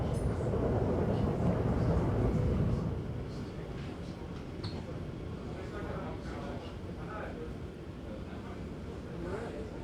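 A new Elizabeth line Crossrail train passes on an above-ground stretch, a steady low rumble loudest in the first few seconds before easing to a continuous background roar, with people talking over it.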